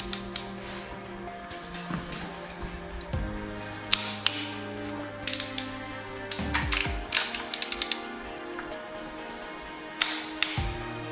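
Torque wrench ratcheting on VW AAB 2.4 diesel engine bolts during a T4 Syncro rebuild, with repeated clicking pawl bursts and mechanical creaks close by, spaced across the stretch with no talking.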